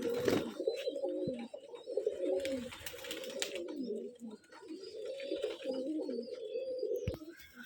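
A colour-matched pair of green Rajshahi Giribaz pigeons coo continuously, a throaty rolling burble close up, with a few faint chirps and knocks mixed in and no talking.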